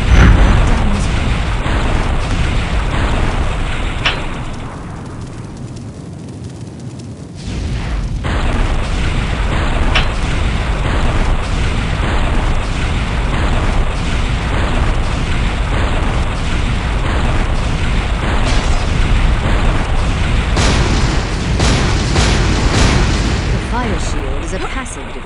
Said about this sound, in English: A stream of fireballs prevents anyone from going further.